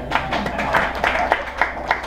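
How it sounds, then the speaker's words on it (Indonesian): A congregation at a Sunday church service claps together, a moderate round of applause with a few louder, roughly rhythmic claps and some faint crowd murmur beneath. "Tepuk tangan dulu dong."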